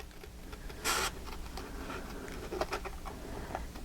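Scissors snip through paper while cutting out a mixed media photo folio piece, a faint, close crisp rasp with a brief louder cut burst, then quieter irregular snips alone.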